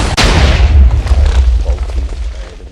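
A 240 semi-auto cannon fires a single loud, close shot in a video game, a sharp boom that rolls into a long, heavy low rumble and fades slowly.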